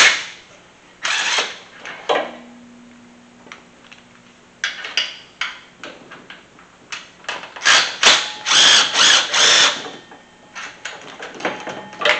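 A ratchet wrench works bolts off an engine bracket on a Mustang, giving repeated close clicking and ratcheting bursts in uneven runs, busier toward the end, with no talk.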